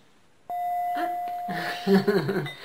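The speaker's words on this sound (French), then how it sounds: "je vais quand même sonner ma petite cloche" A small handheld bell is rung once, giving a clear, sustained pure ringing tone that hangs on for a couple of seconds while a person begins talking over its fading decay.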